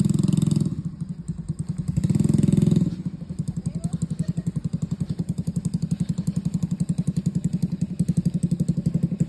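An ATV quad bike engine runs during a beginner's ride at Pine Park Lembang, with a loud close pulsing putter, two revs early on, then a steady rhythmic chug throughout.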